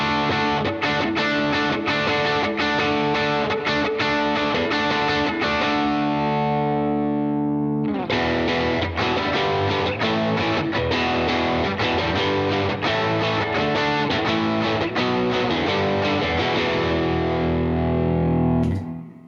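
A distorted electric guitar plays a driving riff, loud and saturated, with echoing repeats and a reverb wash; a brief pause near the middle, then the riff resumes.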